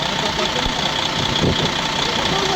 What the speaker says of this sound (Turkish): Motor çalışıyor.